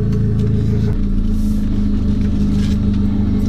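A Moskvich 412 sleeper fitted with a 2.0 turbo engine making roughly 250 horsepower drives along, its steady low engine rumble and drone sustained and fairly loud throughout.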